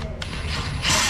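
A socket wrench ratcheting on a Ford Fusion rack-and-pinion steering gear, a quick close burst of metallic clicks lasting about a second, with no talk.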